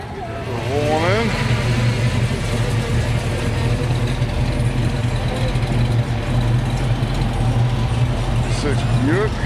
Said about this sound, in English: Cars rolling in.